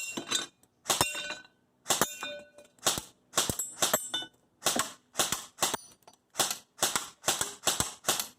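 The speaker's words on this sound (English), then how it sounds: "I'm going to start with the e-bike popper cans, and then I'm going to switch to the little animal targets." Krytac Kriss Vector airsoft gun firing at popper can targets, a steady run of sharp, clicky shots with metallic clinks from the cans, coming in short bursts and singles with brief pauses between, close and fairly loud.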